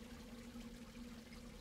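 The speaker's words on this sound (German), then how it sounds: "Das ist das Wasser von oben." Faint, steady trickling water runs in the game A New Beginning, a soft continuous flow with a low hum underneath and no voices.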